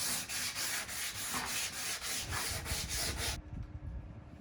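Rhythmic back-and-forth rasp of hand-sanding filler on scrap wood, close and steady, with strokes repeating about every third of a second.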